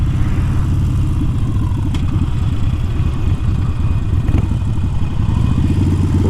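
A motorcycle engine rumbling loudly and continuously up close while riding through town past a Harley store, a steady throaty mid-range drone with slight rises in revs.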